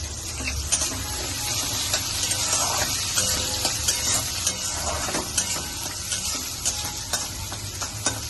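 Garlic frying in oil in a kadai, with a steady soft sizzle and occasional scraping stirs of a spatula against the pan, close and fairly quiet, no voices.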